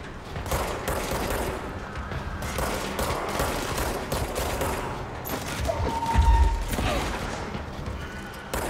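Continuous video game combat fills the scene with rapid gunfire, including close-range shotgun blasts, forming a dense rattling barrage that barely lets up, with a brief heavier boom partway through.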